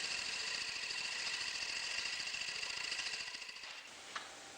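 A bowl gouge shears a rotating wood blank on a lathe, truing it round. The continuous, close scraping rush fades toward the end, leaving the lathe running with a single small knock.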